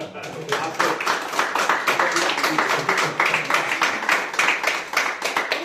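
An audience applauds at a student piano concert, with dense, steady clapping from many hands filling the room, close and fairly loud, with a few voices under it.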